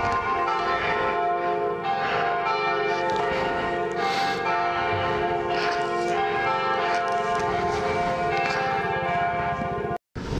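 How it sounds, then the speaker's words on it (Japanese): A bell rings one o'clock at a roadside rest stop on the Venus Line highland road in Japan, its sustained, loud, overlapping tones ringing continuously with only a brief cut near the end. "1時の鐘が鳴っている。"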